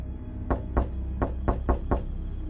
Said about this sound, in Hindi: फिर दूसरी दस्तक हुई।